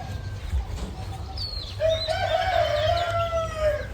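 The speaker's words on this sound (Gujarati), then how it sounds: "જો ખાલી પક્ષીઓનો અવાજ સાંભળો" A rooster crows out over farm morning ambience, with other birds chirping and calling faintly in the background and a low rumble underneath.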